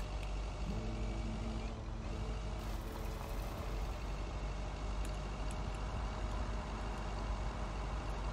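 A truck-like vehicle travels a long road home, its broadband engine and road roar loud and constant from start to finish, with no talk.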